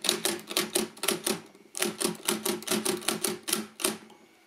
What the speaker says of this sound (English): let's type a number.